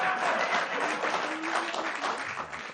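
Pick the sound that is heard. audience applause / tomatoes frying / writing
audience applause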